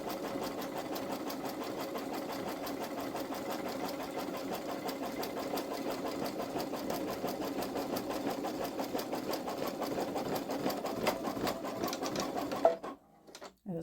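A Babylock Solaris 3 (Vision) embroidery sewing machine stitches an in-the-hoop zippered bag on white fabric, giving a steady, close mechanical whirring with rapid needle ticks that runs unbroken before stopping abruptly near the end.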